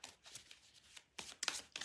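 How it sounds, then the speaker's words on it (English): Tarot cards shuffled and drawn by hand, soft papery riffles and flicks in quick bursts, close and quiet, louder toward the end. "I'll pull a couple of cards and see what comes up"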